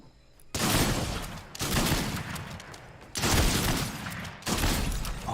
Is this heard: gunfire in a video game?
yes